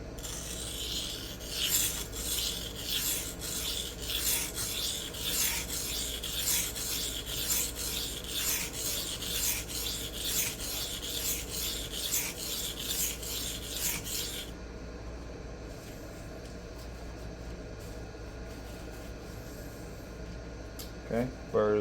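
A tanto knife point is stroked repeatedly across a diamond sharpening plate, a close rhythmic rasping back and forth that fades to a softer scrape partway through.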